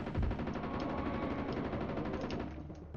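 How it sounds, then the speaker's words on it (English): Rapid sustained machine gun fire from a Jurassic Park video game, dense rattling bursts held at steady loudness before tapering off near the end, no talking. "we are going to be doing the machine gun barrage to start off with"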